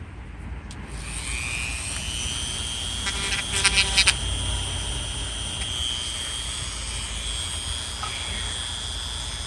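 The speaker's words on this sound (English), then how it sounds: "I got a little polisher here, maybe I can just polish it that way" A small electric polisher whines steadily while buffing a Kirby Sentria vacuum cleaner part, a continuous high-pitched motor drone running throughout with a brief burst of rattling contact in the middle.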